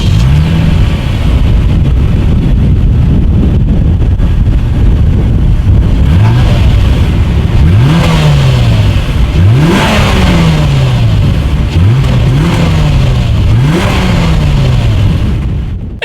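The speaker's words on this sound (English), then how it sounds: "dual exhaust outlets with chrome tips. So as always, you guys, here is that exhaust clip." A 2018 Lexus GS 350 F Sport sounds through its dual exhaust with chrome tips, idling and then revving sharply five times in a row, each rev climbing and falling back, loud and close.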